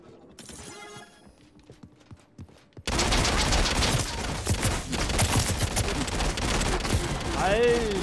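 After a quiet stretch with faint clicks, rapid bursts of gunfire in the game Realm Royale erupt and continue densely, with sharp electronic effects and a voice briefly audible.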